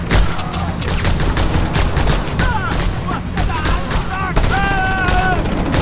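Rapid, continuous gunfire in Just Cause 2, many close cracking shots in a steady stream with speech mixed in and brief whistling tones near the end.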